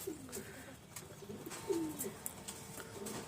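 Pigeons coo softly in a loft, a few low throaty calls spread across the moment, fairly close and not loud, over a faint background hum.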